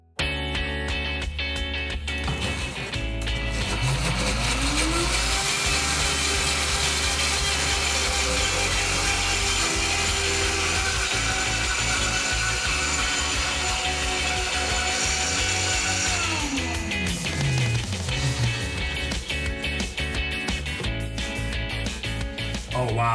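A blender purées cooked, caramelized vegetables with olive oil, a loud continuous motor whine that ramps up in pitch, holds steady for a long stretch, then winds back down, filling the whole moment close up.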